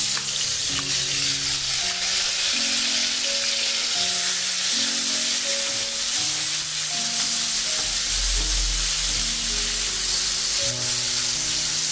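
Marinated chicken fries in hot oil over a medium flame in a restaurant-style chowmein recipe. A steady, loud sizzle runs without a break from start to finish, and no one talks.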